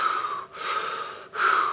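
Rapid, forceful breaths as part of a breathing exercise resembling hyperventilation: three quick, loud airy bursts with brief pauses between them, close and alone.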